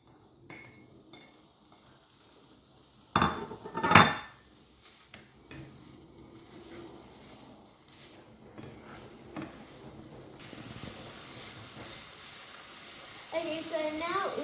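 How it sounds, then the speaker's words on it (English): Bacon goes into hot oil in a pan for an egg and bacon breakfast, with a couple of loud clanks and scrapes of utensils on the pan, then a softer, steadier sizzle and occasional stirring. "now we're going to put the bacon in our oil and mix it"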